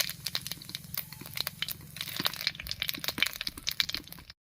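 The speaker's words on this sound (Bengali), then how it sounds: "তেল গরম হয়ে গেছে এবারে তেলের মধ্যে দেব হাফ চামচ গোটা জিরা আর একটা তেজপাতা" Whole cumin seeds and a bay leaf crackle in hot mustard oil in a kadai, a steady stream of close, sharp pops and spits running throughout with no voices.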